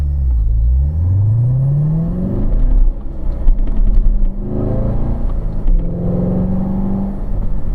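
Race car on a track braking hard with engine revs dropping through downshifts, a loud close engine note falling and rising in pitch over several seconds, with no talk.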